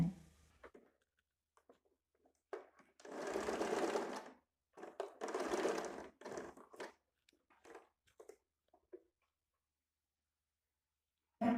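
A sewing machine stitches the waistband of a size 32 high-neck blouse in two close, steady bursts of running needle noise, followed by a few short taps and quiet pauses.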